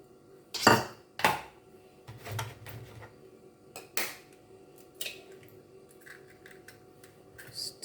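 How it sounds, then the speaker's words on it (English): Eggs being cracked into a separate bowl: several sharp close taps and clinks of shell against the bowl rim, spaced irregularly, with faint handling noise between. "Crack my eggs in a separate bowl because we don't want any surprises."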